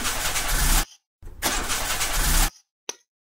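A car engine in the Mermaid Swamp video game cranks twice in long grinding bursts that cut off abruptly without catching, followed by a brief final sputter, loud and close.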